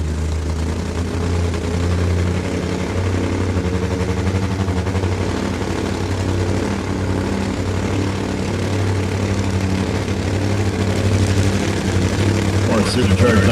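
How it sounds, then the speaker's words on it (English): A supercharged nitro-burning top fuel motorcycle engine runs during drag racing qualifying, heard as a loud, steady, deep droning roar that holds unbroken throughout. "Supercharged nitro action here in qualifying with Korry Hogan"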